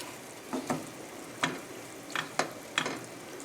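A utensil stirs hot sardine pasta in a pan, with about six short scraping, sizzling strokes spaced irregularly over a faint background hiss.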